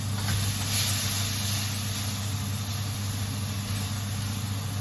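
Beef browning in a hot pan for chow mein gives a steady, loud sizzling hiss over a low hum, continuous throughout with no voices.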